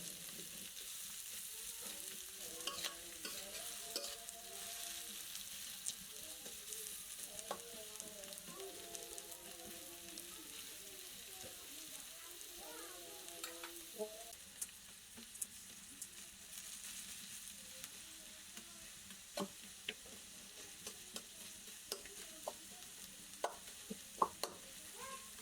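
Onions and chillies frying in a pan in a village kitchen, a steady close sizzle with occasional stirring scrapes and light clicks throughout, no talk.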